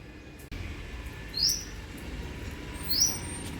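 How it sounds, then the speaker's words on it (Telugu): A black pitta gives two short, sharp, rising calls about a second and a half apart, standing clearly above a steady low outdoor hum. "బ్లాక్ పిట్టా చూడండి ఎంత గట్టిగా అరుస్తుంది"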